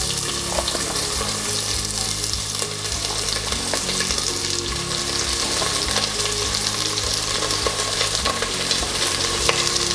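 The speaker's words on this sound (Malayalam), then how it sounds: "ഇനി ഞാൻ ഇതിലോട്ടൊരു 3 ഓണിയൻ സ്ലൈസ് ചെയ്തത് ആഡ് ചെയ്ത് കൊടുക്കുന്നുണ്ട്." Three sliced onions fry in a pressure cooker pot for chicken biryani, giving off a loud, dense, continuous sizzle that holds steady throughout.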